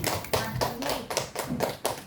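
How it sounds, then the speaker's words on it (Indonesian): Teachers clap together, a few loud, closely spaced rhythmic bursts of hand claps that land almost in unison, with chatter among them. "tepuk tangan buat Bu Mary"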